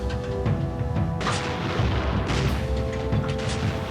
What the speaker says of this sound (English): The USS Maddox calibrated her guns and opened fire.